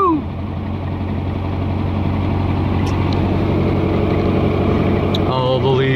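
A 1969 VW Baja with a 1776 engine and tall tires pulls along in third gear, its engine a steady, close drone throughout with a brief change in pitch near the end.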